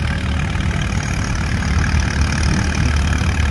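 An old tractor labors under load at a tractor pull, its engine giving a loud, continuous low roar throughout, close by, with no talking.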